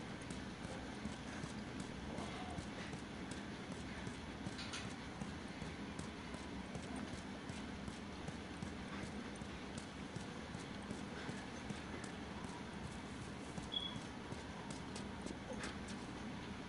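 In the video game The Last of Us, a horse's hooves clip-clop at a steady, faint pace beneath a dense ambient game soundscape.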